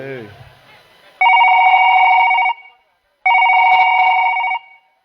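A telephone rings in two long electronic bursts separated by a short pause, loud and close, after someone speaks briefly.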